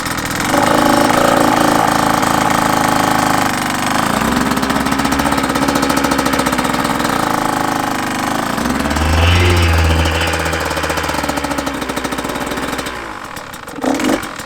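A KTM 150 two-stroke motorcycle engine runs steadily up close during clutch engagement practice, its buzzing idle swelling into a deeper revving surge midway before settling back.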